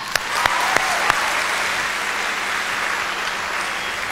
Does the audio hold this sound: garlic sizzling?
no